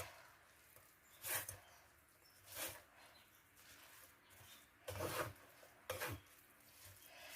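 Onions stirred into potatoes in a pan, several brief scraping strokes of a utensil against the pan at irregular intervals, quiet and close, with no voices.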